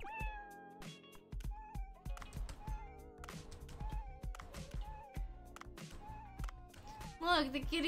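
A cartoonish cat meows repeatedly in the video game Dave the Diver, over bouncy game music with tapping effects.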